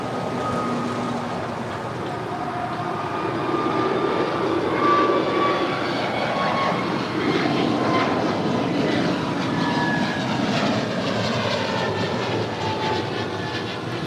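An American Airlines Airbus A321neo departing Los Angeles International Airport for Dallas-Fort Worth, a steady broad engine roar heard from a distance that holds throughout, with faint whining tones drifting over the rumble.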